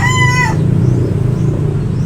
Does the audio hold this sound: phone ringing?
no